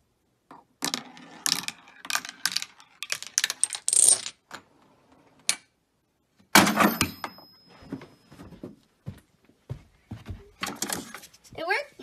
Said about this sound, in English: This is my Rube Goldberg machine, and the goal of it is to get this cash register open.